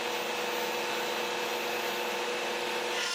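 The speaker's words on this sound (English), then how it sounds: "I used my homemade router table with a 1/8 inch spiral bit." Homemade router table fitted with a 1/8 inch spiral bit ripping pallet wood boards, a steady, close, high whine with constant cutting noise throughout.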